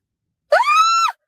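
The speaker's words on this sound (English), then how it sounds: "Why are you screaming at us" A woman gives a single sustained scream, loud and close, lasting about half a second with a rising start and a drawn-out, steady middle before cutting off.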